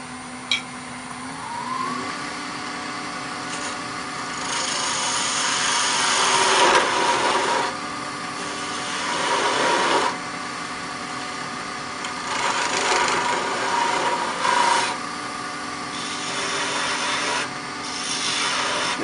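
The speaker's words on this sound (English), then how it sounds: "This is a 1/4 inch detail gouge, very small, easy to get into detail, like this." A wood lathe spins up as a small quarter-inch detail gouge turns a wooden coffee scoop, giving a rising motor whine followed by loud, repeated rasping bursts of cutting that swell and fade.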